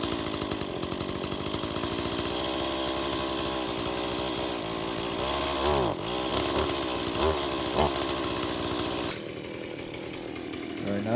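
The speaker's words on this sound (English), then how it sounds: "Right now we have the safety bar on, which keeps the blade from turning while we're warming the saw." A chainsaw warming up with its chain brake engaged, running steadily and loudly at a high, buzzing engine pitch with slight fluctuations, then dropping to a lower idle near the end, with no talk over it.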